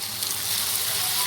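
Chopped onion and a large diced tomato sautéing in a pan for a paneer bread sandwich filling, a steady close hiss and sizzle of frying that runs continuously with no pauses.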